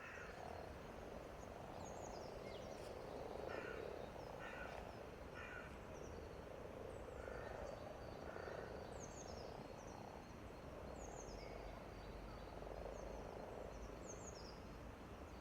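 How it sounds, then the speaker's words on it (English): Frogs and toads croak steadily across a breeding pond in a forest reserve, a dense continuous chorus with repeated pulsed calls standing out over the din, and occasional chirping birds high above. "After the migration of these thousands of frogs and toads"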